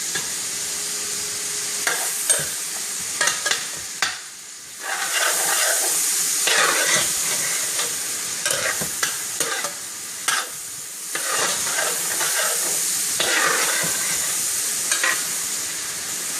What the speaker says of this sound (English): So continue to go ahead and let that cook until it's nice and brown.